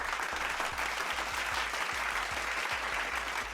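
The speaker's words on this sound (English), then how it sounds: "Can we get a clap it up for the fire signs?" Live show audience clapping together in a rhythmic, evenly spaced beat over a broad wash of crowd applause, sustained and moderately loud throughout.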